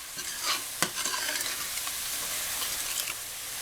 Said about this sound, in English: I'm going to give this a stir, and I'm going to let it fry for about 2 to 5 minutes